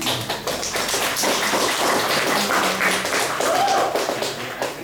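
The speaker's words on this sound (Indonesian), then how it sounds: "Mungkin saya boleh minta tepuk tangannya." An audience at a literary talk at a coffee event in Wonosobo gives dense, sustained clapping from nearby for nearly five seconds. The clapping is steady and even, with no words spoken over it.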